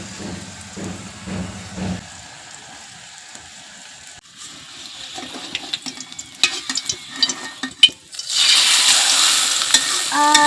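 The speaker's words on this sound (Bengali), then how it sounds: "তেলটা গরম হয়ে গেছে, এখন আমি দিয়ে দিই। এখন দিয়ে দিচ্ছি অল্প একটু ডিম।" Scrapes and clatter sound in a hot wok for egg paratha, then beaten egg hits the hot oil and bursts into a loud, sustained sizzle close by over the final seconds.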